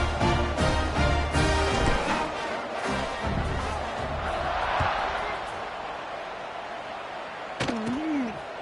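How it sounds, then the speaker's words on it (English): A football stadium crowd buzzes after a score, a dense, loud, steady roar that thins slightly over time, with a brief voice rising near the end. "this crowd is buzzing after that last score"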